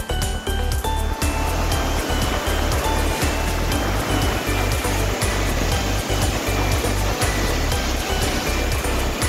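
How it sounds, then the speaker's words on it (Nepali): A waterfall roars as a broad, loud, continuous wash of rushing water close by, with faint rhythmic thumps underneath and no talking. "झरना मुवा झरना तपाईँहरूले देख्न सक्नुहुन्छ"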